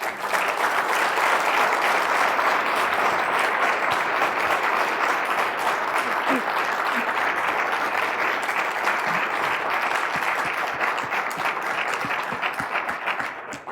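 Sustained audience applause after a talk, many hands clapping loudly and evenly for a long stretch and tapering a little near the end, with no speech over it.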